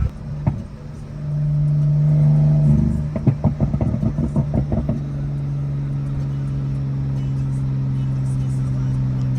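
A BMW 535i F10 sedan with intake mods and E85 tuning pulls hard from inside the cabin, a steady engine drone broken by a run of rapid pulsing bursts before settling back to a constant cruising hum.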